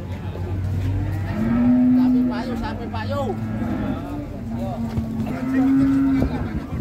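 Limousin cattle moo close by in long, low, drawn-out calls, two of them standing out clearly, over a busy cattle market background with voices at Pasar Jetis, Ponorogo, Indonesia.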